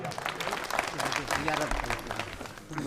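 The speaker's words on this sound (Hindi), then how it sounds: "एक बार जोरदार तालियां" Applause from the crowd at a farmers' movement honour ceremony marking Subhash Chandra Bose's birth anniversary in Baroda village, Jind, a short burst of steady clapping at moderate distance with crowd noise underneath.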